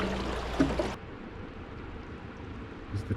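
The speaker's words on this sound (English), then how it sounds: "look at this waterfall!" A waterfall at a dramatic coastal anchorage on the Isle of Skye, heard as a broad steady rushing roar that is loud for the first second and then settles into a softer continuous wash.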